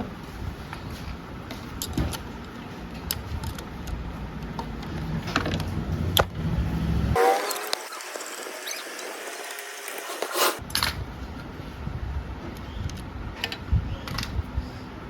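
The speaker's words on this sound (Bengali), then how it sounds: "এখানে 3টে স্ক্রু খুলে নেব।" Screws being unscrewed on a TVS Ntorq scooter during engine repair, heard as faint close clicks and small metallic ticks with a scraping, rustling stretch in the middle, with no talking.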